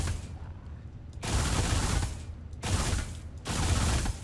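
Gunfire in the sci-fi shooter Alien Rage Unlimited, loud bursts of rapid automatic fire in three long stretches separated by brief lulls, dense and close, with no talk.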